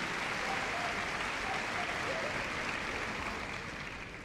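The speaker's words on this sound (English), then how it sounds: "let's have a round of applause for that heel work with Monty and Lou" An audience at Crufts 2015 applauds a heelwork display by a dog and handler, steady, dense clapping filling the hall throughout, easing slightly toward the end.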